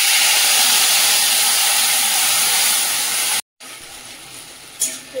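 Water splashes into a hot pan of lightly fried green chillies and nigella seeds, giving a loud, steady steam hiss that cuts off abruptly, then a quieter lingering sizzle with a brief flare near the end.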